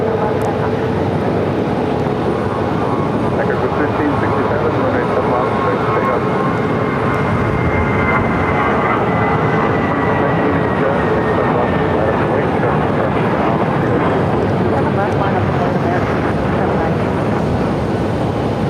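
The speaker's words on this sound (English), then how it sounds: "Or departure now, American 2203. heading to Omaha, Nebraska in an old America West A319 at 26 years of age." An old American Airlines Airbus A319 in America West colors departs Phoenix with a broad, continuous engine roar. A rising whine threads through the roar as it climbs away, with a voice faint beneath.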